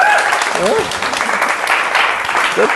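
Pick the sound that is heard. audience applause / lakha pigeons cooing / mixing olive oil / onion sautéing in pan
audience applause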